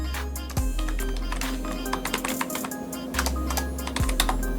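Rapid keystrokes on a computer keyboard, tapped in quick irregular bursts at close range while entering a placeholder line for an email field in a contact form, with a steady low hum underneath.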